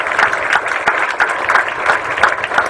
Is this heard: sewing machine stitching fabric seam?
no